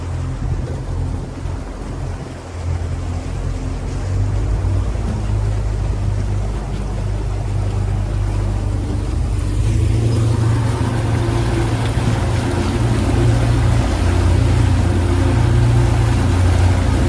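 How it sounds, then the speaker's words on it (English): A tow boat bouncing on waves at sea, with loud continuous water rush and engine rumble that build slightly over time, heard alone without talk. "The boat is bouncing around."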